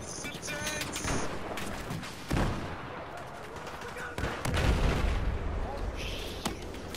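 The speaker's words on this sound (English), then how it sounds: "he's firing from the bottom there" Bursts of rifle and automatic gunfire ring out during a Battlefield 4 match on the Paracel Storm map, with a few heavier booms, dense and loud through most of the stretch while players' voices talk over the action.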